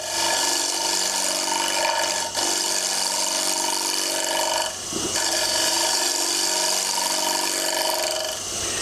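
Wood lathe with a roughing gouge taking a light cut, giving a steady, continuous whirring hiss with harmonic tones, close and loud throughout with two brief dips in level.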